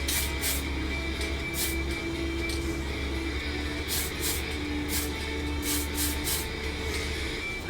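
Spray paint hisses in short bursts onto a 1/24 scale Porsche 911 GT3 model, a series of quick test sprays over a steady low background hum, close to the microphone.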